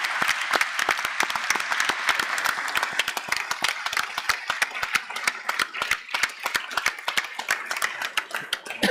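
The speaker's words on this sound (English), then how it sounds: "please, one more round of applause for all the folks up here" Audience at a conference closing session claps steadily, a dense and fairly soft round of applause that thins out toward the end, with a faint murmur of voices underneath.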